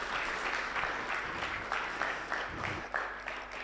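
An audience at a child justice summit gives a panel a round of applause, a steady sustained clapping that swells and dips in several waves.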